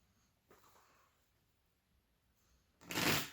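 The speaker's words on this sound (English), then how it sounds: "I just felt the need to do more shuffle." Tarot cards being shuffled, a short soft rustle early on followed by a louder, dense riffling burst near the end, close to the listener with no talking.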